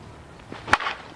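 A single sharp crack of a Dill Pickle USSSA slowpitch bat striking a softball, one bright close impact standing alone with faint background noise before and after.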